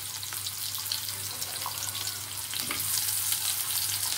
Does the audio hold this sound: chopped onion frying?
yes